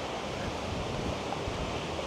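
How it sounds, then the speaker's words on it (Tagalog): Big ocean waves surge onto a beach on Boracay, a dense, steady roar of surf with wind buffeting the microphone throughout. "Ang lalaki ng alon."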